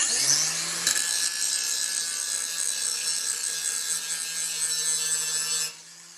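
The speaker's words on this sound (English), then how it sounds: "you take your angle grinder with a grinding disc and you grind" An angle grinder with a grinding disc cleaning a patch of metal on a welded platform base plate, a steady loud whine held for several seconds before cutting off.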